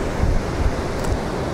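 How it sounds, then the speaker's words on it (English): Fast-moving river water rushing along the Kauai River in California, a steady loud roar of churning flow with low rumbling and wind buffeting the microphone, no voices. "A lot of water moving down into the river."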